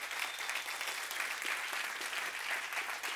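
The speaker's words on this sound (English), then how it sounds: "Give the Lord a big hand clap of praise." Church congregation clapping in praise, a quiet, even crowd of many hands heard at a distance, steady throughout without voices on top.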